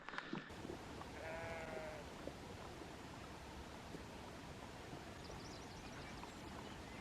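Sheep bleating from a line of sheep moving into mist on an open hillside along the Cambrian Way, a couple of faint, distant calls early on over steady wind, with chirping birds near the end.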